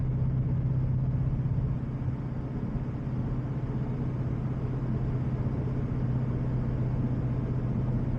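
A 2011 Ford Mustang cruises at night, its engine a steady, deep droning rumble heard from inside the car with continuous road noise and no talking.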